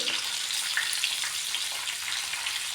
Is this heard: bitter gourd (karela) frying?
yes